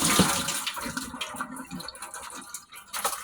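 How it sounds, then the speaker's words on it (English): Cold water pouring over strained spaghetti noodles in a sink: a steady, close rushing splash of running water throughout, no voices. "clean the noodles off a little bit by pouring some cold water on them"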